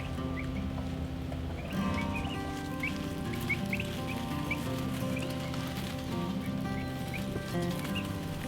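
Young turkeys settled in their brooder keep up a steady chorus of high, thin peeps and chirps over a constant low hum, close and continuous throughout.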